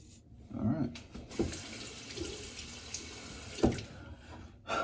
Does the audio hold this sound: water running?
yes